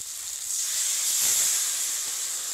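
Water poured into hot, spiced fish masala made with yogurt sizzles loudly in the pan, a steady bright hiss that swells slightly and then holds for a couple of seconds, with no voices over it.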